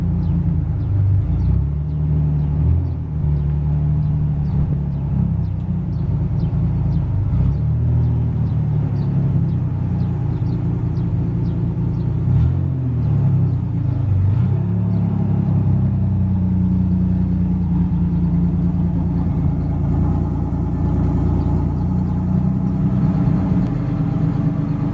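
A Pontiac Fiero GT engine runs after five years sitting unused, a steady close low rumble with slight fluctuations in its idle over about twenty-five seconds, with no talk.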